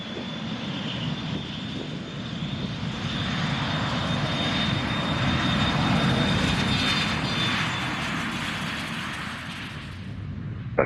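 A Challenger private jet takes off from runway 21 at Scottsdale, its engine roar building to a loud, steady rumble with a thin whine running above it, then easing slightly near the end.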